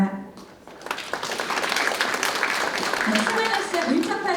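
An audience claps at a policy forum on fishing-boat safety and maritime accidents. A voice speaks briefly, then dense, sustained applause swells and continues steadily to the end.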